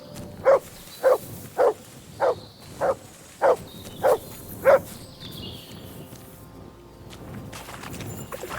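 The dog Mutt barks eight times in an even, spaced rhythm in Kingdom Come: Deliverance II, each bark sharp and fairly close, followed by a quieter stretch of ambient outdoor sound.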